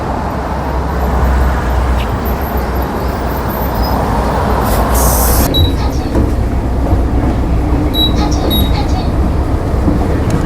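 Steady low rumble of a bus pulling in, in Korea, with a brief hiss of air brakes midway and continuous traffic noise around it.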